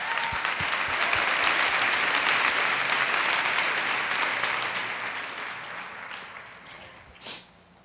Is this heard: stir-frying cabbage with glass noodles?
no